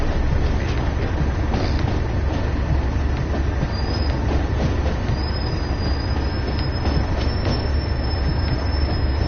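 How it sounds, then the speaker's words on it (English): Steady loud train rumble with a thin, high-pitched brake squeal rising intermittently over it, no speech, from the Train Sim World 2020 video game. "I can hear that squealing noise that's outside. It's on using their brakes."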